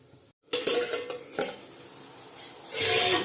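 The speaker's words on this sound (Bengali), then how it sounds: "এখন আমি এটা ঢেকে দেবো" A metal lid clanks onto a pot of simmering fish curry, with several sharp clatters of cookware and utensil knocks and a soft sizzle beneath.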